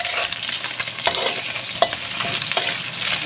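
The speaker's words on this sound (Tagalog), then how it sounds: "mag-uumpisa na akong magsangag ng kanin na white rice" Garlic-and-egg white rice being stir-fried in a pan, a steady sizzle broken by several sharp scrapes and clacks of the spatula, close and fairly loud, with no voices.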